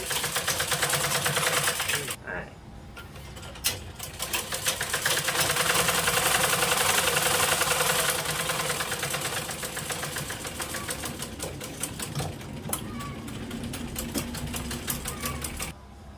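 A sewing machine stitches a cotton lungi at home, whirring continuously and close by with a fast rhythmic clatter, briefly slowing and pausing before running again.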